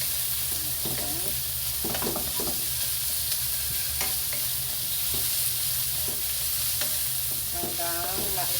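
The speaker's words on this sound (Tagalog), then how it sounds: "Aluin ang giniling." Ground meat sautéing in a pan gives a steady sizzle broken by scraping spatula strokes as it is stirred, moderately loud and close, without any voices.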